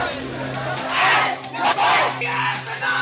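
A large crowd in Bhadohi, Uttar Pradesh, holding "I Love Mohammad" posters, chants slogans in loud rhythmic surges of massed voices that rise and fall over about three seconds, with steady low hum beneath.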